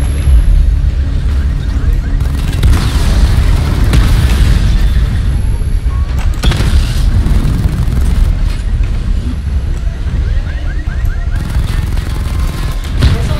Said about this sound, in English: activate missile barrage